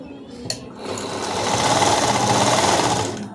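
A sewing machine stitching the neck of a long frock, starting after a brief click and then running in a fast, steady, close mechanical whir for a few seconds, with no talk over it.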